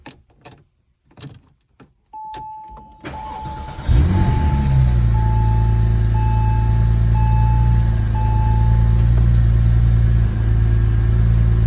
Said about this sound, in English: And we'll go ahead and start up the car.